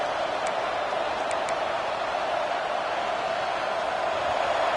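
A football stadium crowd gives off a steady, distant roar, a dense wash of massed voices that stays constant with no single voice standing out.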